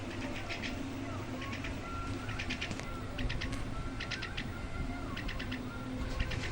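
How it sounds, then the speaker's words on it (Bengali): A hungry pet bird calls insistently for food, repeating bursts of rapid, high, harsh chattering notes in short clusters over a constant background hiss, close by. "ক্যাকে ক্যাকে করে ডাকছে খিদের জন্য"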